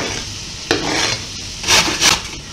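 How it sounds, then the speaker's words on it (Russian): Diced onion frying in vegetable oil in a pan, a steady close sizzle with scraping stirs from a utensil and a few louder bursts of hiss, no voices. "Лук обжариваем на растительном масле."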